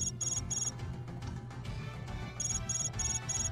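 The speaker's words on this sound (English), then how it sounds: "Iffy, there's a call for you. That's not my cell ringing." A phone ringtone in Hyperdimension Neptunia Re;Birth 1, repeating high electronic beeps in short groups at the start and end over a low musical background.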